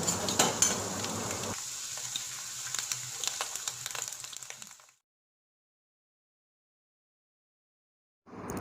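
Jackfruit chilli and curry leaves fry in hot oil in a pan, crackling and sizzling steadily with sharp pops early on, then dying away into silence before the sizzle briefly returns at the end.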